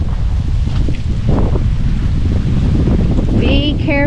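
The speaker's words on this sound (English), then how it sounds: "Whoa, wind!" Strong wind roars across the microphone on a bluff along the Hawksbill Crag trail in the Arkansas Ozarks, a loud, constant rumbling buffet with a faint voice breaking through near the end.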